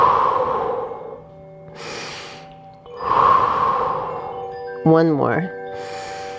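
Two long, breathy exhales through the nose during a guided breathing exercise, each a soft rushing whoosh that fades out, with a brief spoken cue between them.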